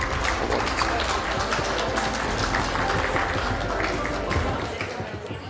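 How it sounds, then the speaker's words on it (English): A conclave audience greets former Union Minister Dr. Shashi Tharoor with a dense, sustained wash of clapping that fills the room and fades slightly at the end. "Let's welcome with a loud round of applause former Union Minister and Member of Parliament Dr. Shakti Tharoor"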